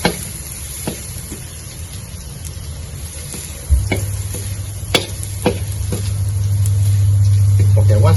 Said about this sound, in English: Now put in the garlic. Still under low fire. We fry until they are fragrant.